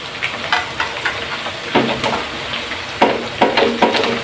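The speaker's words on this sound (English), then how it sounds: "fry it until it's getting brown" Potato pieces frying in a pan for a breakfast potato omelette, a steady close sizzle and crackle with several louder bursts of spitting and stirring, no voices.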